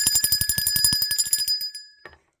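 A bright bell rings in a rapid run of repeated strikes for about two seconds, then the ringing cuts off abruptly, followed by one short final clang and silence.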